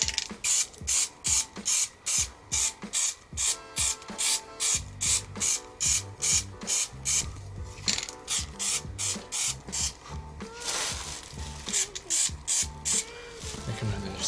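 Aerosol spray paint goes on Vauxhall Corsa E car badges as a light grip coat, in a series of short, sharp hissing bursts, some rapid and regular, others longer, close by, with no speech.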